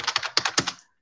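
A quick run of about seven crisp keystrokes on a computer keyboard while entering a git clone command, close and clear, ending in silence.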